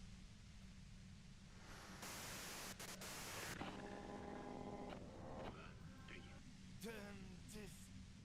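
Constant hissing white noise in the Disco Elysium video game, with faint tones and muffled voice-like sounds drifting through it.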